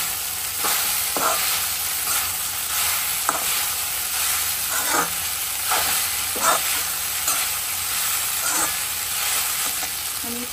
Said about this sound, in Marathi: तर यात पोहा टाकून घेत आहे मी आणि आता छान मिक्स करून घेणार.